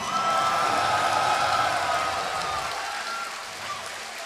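Crowd at the Red Bull Battlegrounds Austin Grand Finals cheering for the StarCraft player SKMC: a broad, steady roar of cheers and clapping that fades slightly toward the end.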